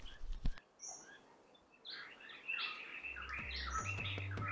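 Common green magpie of the magpie family calling in a wild valley, a series of bright, whistled and chattering calls mixed with other birdsong over a low ambient hum, moderately near.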